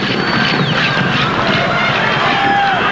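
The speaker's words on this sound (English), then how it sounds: "the crowd murmuring in sympathy there with Latana" A large stadium crowd at the 1994 Africa Cup of Nations final between Nigeria and Zambia gives off a loud, continuous murmur, with scattered whistles rising above the din while a commentator talks over it.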